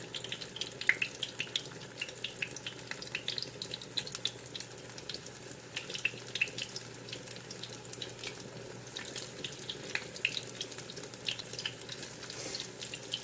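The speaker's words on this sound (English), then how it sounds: "You just want to fry this until nice crispy golden brown all the way around." Tofu fries in a pan, a steady soft sizzle and crackle with faint scattered pops, quiet and even throughout with no talking.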